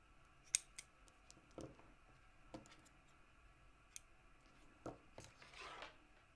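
Scissors snip crochet yarn in a quiet room. A handful of sharp, separate clicks and cuts are spaced irregularly, then comes a softer rustle at the end.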